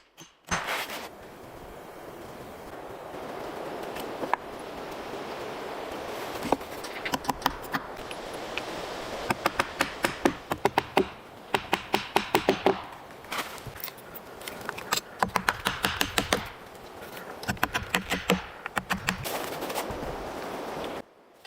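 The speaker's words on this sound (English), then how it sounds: "Reinforcing the main floor framework with hammer and nails" Rapid bursts of sharp hammer blows driving nails into a wooden cabin floor frame, nearby and loud, coming in irregular clusters with short pauses between them.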